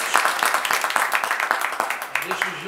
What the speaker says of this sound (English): let's give a wonderful applause to our mothers